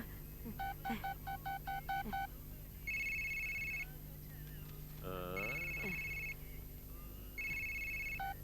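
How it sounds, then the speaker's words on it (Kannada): Keypad tones from a mobile phone being dialed in a Kannada comedy film scene: a quick run of beeps, then steady ringback tones repeating between short pauses, with a brief voice in between. "ನನ್ನ ಮೊಬೈಲ್ ಇಂದ ನಿನ್ ಕಳೆದೋ ಮೊಬೈಲ್ಗೆ ಫೋನ್ ಹಾಕು"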